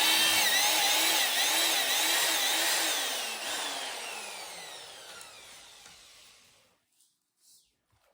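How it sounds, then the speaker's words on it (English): A power drill bores holes into 320 C pattern steel equipment tracks for carbide studs, a loud whining grind with falling pitch sweeps that slowly fades, then stops into near silence with a couple of faint knocks. "So we're going to drill it out."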